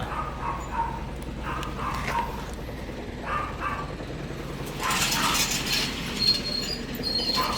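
A dog barks several times in short bursts near an old long-nosed truck, mixed with mechanical clanking and ratcheting noise throughout.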